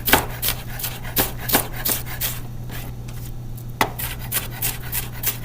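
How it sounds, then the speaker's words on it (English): Kitchen knife finely mincing about a quarter of an onion on a cutting board, quick steady chops close by with light scraping between strokes and a steady low hum underneath. "You're going to just mince it up nice and fine"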